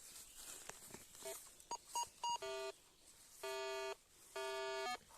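Metal detectors beeping over buried iron in an overgrown field during a dig: several short chirps, then three long sustained electronic tones, loud and close with no talk.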